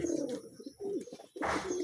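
A Sirazi pigeon coos in short, throaty bursts close to the listener, two quick phrases with a brief pause between, followed by a rustling flurry.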